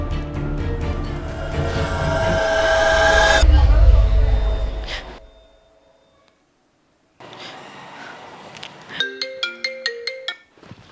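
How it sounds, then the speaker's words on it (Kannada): A mobile phone ringtone goes off in a Kannada comedy web series scene, a loud tonal melody of bright repeating pulses near the end that follows busy music and a stretch of near silence. "ಅಮೃತ ಒಂದೇ ಫೋನ್ ರಿಸೀವ್ ಮಾಡಿದ್ರಿ"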